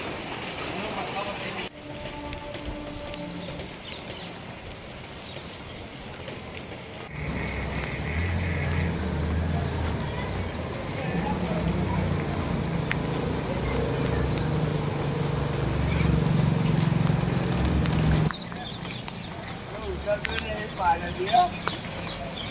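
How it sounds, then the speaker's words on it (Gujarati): Vehicle engine running with its body submerged in flood water after six inches of rain in Nadiad, only the silencer above the surface; a steady low rumble swells louder mid-clip, then cuts off sharply, with voices and outdoor noise around it. "આપણું એન્જિન આખું ડૂબી ગયું, ખાલી સાયલેન્સર જ એને છે"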